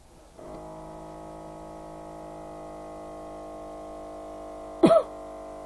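A single short cough bursts out near the end, loud and close, over a steady mechanical hum that runs throughout.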